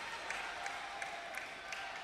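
A crowd at the 2012 London Paralympic Games table tennis event applauds and cheers for player Bailey in a steady, fairly faint wash of clapping that has a few sharper claps.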